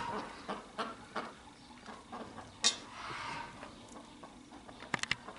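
A young backyard hen clucks and squawks agitatedly, close by, with a sharp loud call midway and a burst of rapid cackles near the end over quiet outdoor ambience.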